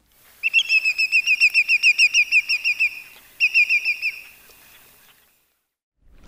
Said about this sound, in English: the other thing you'll notice about yellow legs is their call. It's panic-stricken and always loud.